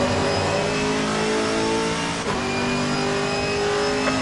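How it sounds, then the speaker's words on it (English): Race car engine in Assetto Corsa Competizione at Misano, a loud, steady high-revving roar with a continuous whine held close for the whole stretch, a brief dip midway as another car draws alongside. "Faster car coming up behind."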